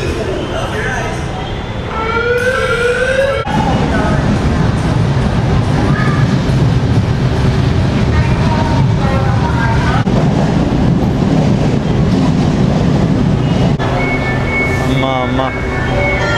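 Inside a busy metro train in the Philippines, a loud steady rumble and hum fill the carriage with occasional squeals and tonal whines, heard continuously with voices mixing in.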